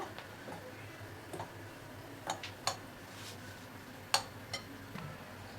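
Dry cake ingredients being mixed with baking powder in a bowl, heard as soft scraping under a series of light, scattered clinks and taps of a utensil against the bowl, quiet and close.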